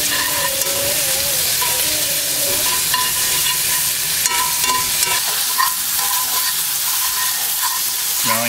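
Morel mushrooms fry in olive oil with garlic, giving a loud, steady, close sizzle with crackling spatter and occasional stirring throughout.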